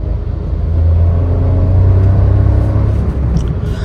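Steady, loud low engine rumble from inside a Maruti WagonR while driving, rising slightly as it moves along, with no talking.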